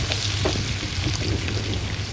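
Salted shrimp fry in hot mustard oil with a steady, dense sizzle, close and continuous with soft crackles throughout and no talking.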